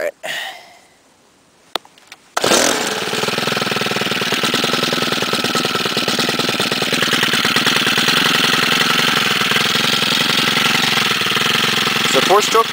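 A 28cc four-stroke gas string trimmer engine starts after a short quiet stretch and runs steadily at a loud, close, buzzing idle with a rattly knock throughout.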